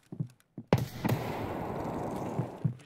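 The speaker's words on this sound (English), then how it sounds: "I'm throwing a nade" A grenade is thrown in a video game and goes off with a sudden loud blast, then a sustained rumbling roar that fades slowly, with a few soft thuds just before it.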